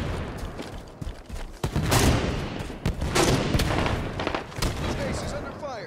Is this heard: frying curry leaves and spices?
no